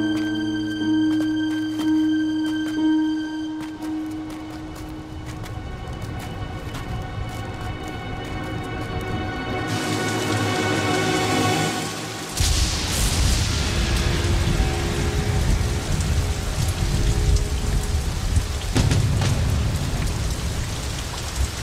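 Rain sets in on a mountain pass at night, a broadband wash that swells louder midway and continues beneath a lingering musical score.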